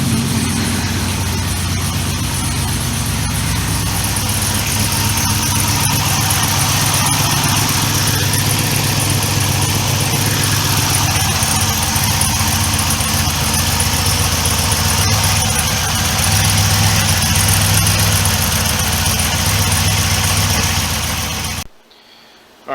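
A car engine idles steadily after starting, running on a newly upgraded fuel system with old injector data and no tune, a loud even drone that holds for about twenty seconds before cutting off abruptly.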